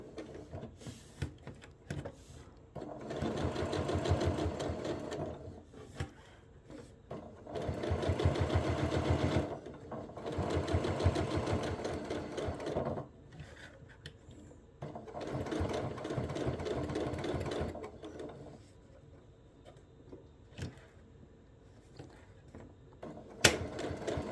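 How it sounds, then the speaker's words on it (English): Sewing machine running a top stitch on a bag: several bursts of steady, rapid mechanical needle chatter a few seconds each, separated by quiet pauses, close and moderately loud. "so we're going to go ahead and sew the top stitch"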